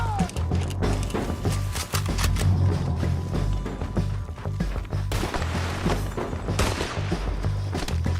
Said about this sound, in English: Who that shooting?